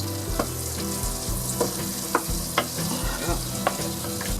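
Shallots frying in butter in a pan on low heat, a steady close sizzle with occasional louder crackles and stirring taps, no talking.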